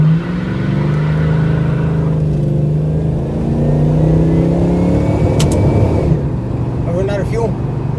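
A boat's engine accelerates and revs hard, a loud sustained roar rising in pitch and holding, with people talking over it near the end.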